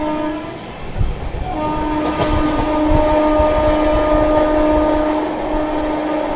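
Amrit Bharat Express running at speed on the Patna–Delhi route while overtaking the Ananya train held in a loop near Tundla, with a steady loud rolling roar, sustained horn tones and rhythmic wheel clatter close by.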